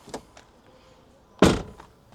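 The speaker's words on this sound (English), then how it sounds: "We can now shut this door." An aluminium door on a MK3 Audi TTS is swung shut with one solid thunk near the end, after a small click of handling, in a quiet garage.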